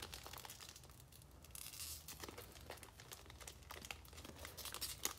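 Crinkling and tearing of a sealed plastic wrapper on a Panini football trading card pack, faint close rustles and crackles with uneven bursts, no talk.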